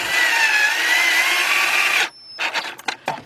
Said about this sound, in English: get my 8mm deep on my cordless drill right here. We're gonna go in there and we're gonna tighten up that ground wire.